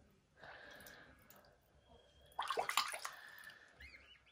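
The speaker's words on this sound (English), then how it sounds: "Splash about in the water, Fraser." A day-old Canada gosling splashes in water in a sink indoors, making soft trickles and drips before a sudden burst of louder, fluttering splashes near the end.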